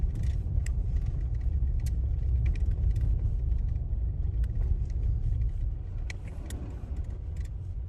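A truck driving through rain on a muddy forest road, its steady low engine rumble and tire noise filling the cabin continuously, with faint scattered clicks and taps above.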